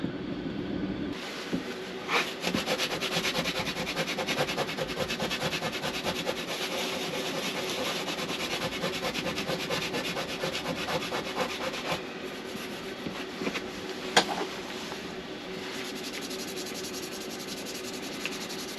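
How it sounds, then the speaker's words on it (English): Old silicone being scraped off a bracket on a van, a steady close rasping scrape repeated back and forth for a long stretch, with a couple of sharper clicks and no talk. "You just saw me scratch up either side of this bracket now."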